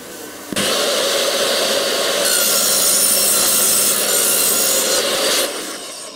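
A table saw whines steadily as it cuts through wood, loud and continuous for several seconds before winding down, with no talking.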